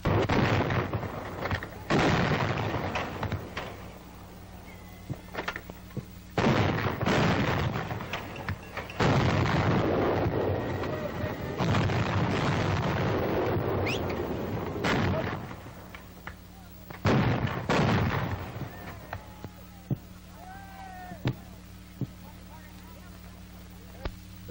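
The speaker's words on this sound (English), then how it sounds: "Crews continue to fire at the target as it falls." Coast artillery gun firing at a towed target, 1942, a series of loud, sharp booms repeating every few seconds with ringing tails, mixed with background mechanical noise and a narrating voice.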